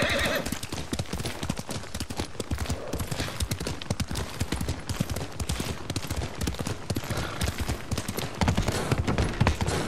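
Continuous clip-clop of horse hooves with occasional whinnies in Ghost of Tsushima, a loud, busy rhythm with bursts that suggest combat in the background.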